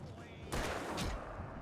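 Gunfire in the video game Alan Wake: a dense burst of loud, close shots cracking in quick succession after a brief quieter lead-in, with a voice speaking over the action.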